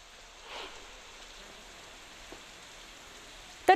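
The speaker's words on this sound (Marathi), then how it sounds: "चांदोली धरणाच्या पाणलोट क्षेत्रात मुसळधार पाऊस पडतोय" Steady heavy rain hisses evenly and continuously over a dam catchment area, with a faint bump midway and a brief louder sound at the very end.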